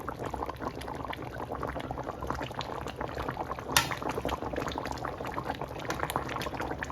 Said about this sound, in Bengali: ক্যামেরাটা রেখে আমার কড়াইটা ঘোরাতে হবে, এই দুই সাইডে ধরে এভাবে ঘুরিয়ে দেবো